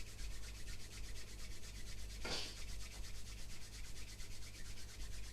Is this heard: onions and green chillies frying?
no